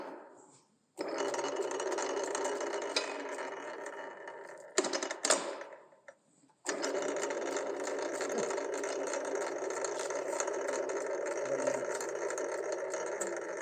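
A metal lathe runs with its back gear and lead screw engaged for thread cutting, giving a steady, busy mechanical whir that cuts out briefly and then starts up again at the same level.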